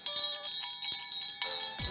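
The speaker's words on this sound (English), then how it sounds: "His bell is an actual bell." A small metal bell sewn inside a large, fat plush cat toy jingles in soft repeated shakes, bright tinkling tones ringing out several times over a couple of seconds, close and fairly quiet.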